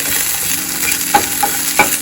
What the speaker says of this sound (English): we're just browning it a little bit before we add the onion